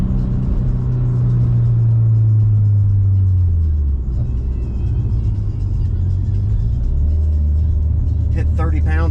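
A 550whp Subaru STI accelerates hard under heavy boost, a loud continuous low engine drone rising in pitch and then dropping as revs fall, with whirring and hissing from the turbo near the end.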